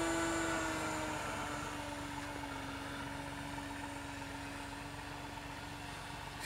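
A nitro engine on a Trainer 40 RC model airplane with an ASP 46 engine drones steadily at a distance, a faint continuous buzz with a slowly shifting pitch and no talking over it.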